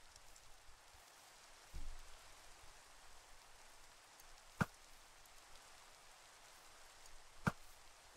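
Steady rain in a video game falls as a soft, continuous hiss throughout, broken by two sharp, brief impacts near the end and a dull thump early on.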